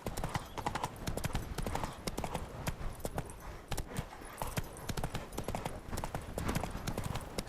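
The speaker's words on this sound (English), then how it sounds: "Spooking my horse. Roach doesn't like ghosts." Horse hooves clip-clop steadily in The Witcher 3: Hearts of Stone, a fast, even trotting rhythm close by over a bed of ambient game noise, with faint talk in the background.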